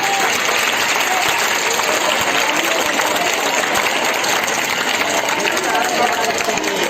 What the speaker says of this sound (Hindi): आपकी तालियां इन बच्चों की मेहनतों से कम पड़ रही हैं